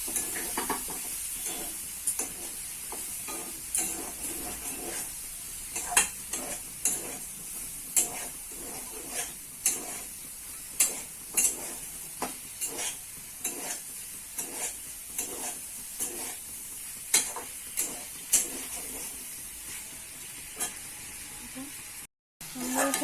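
Cauliflower fries in oil with a steady sizzle, and a spoon repeatedly scrapes and clinks against the pan while it is stirred at a regular pace throughout.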